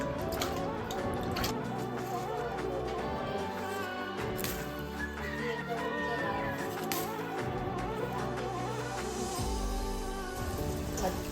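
Freshly peeled wet cashews are rinsed in a bowl of water, with steady soft splashing, dripping and squishing that runs close and continuous throughout.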